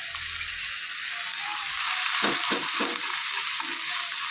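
Samosa filling masala roasts in a pan with the gas turned off, a steady close sizzle broken by a few scraping stirs of the spoon, with no one speaking.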